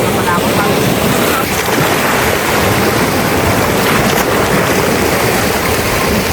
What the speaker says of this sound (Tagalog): grabe yung alon. Ang OA. Yung alon, oh. Grabe siya, malakas.